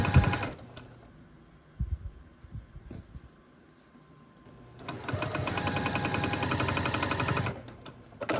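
A sewing machine chain-piecing quilt block squares with the thread left attached, running in a steady close rapid stitching burst after a few quiet handling clicks, then stopping.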